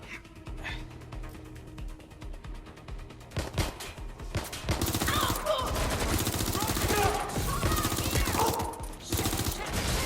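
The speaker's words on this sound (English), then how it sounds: "Shots fired!" Gunfire erupts in the Watch Dogs Legion video game, building from sparse shots in the first few seconds into dense, loud continuous shooting layered over game music and effects, with a voice speaking briefly.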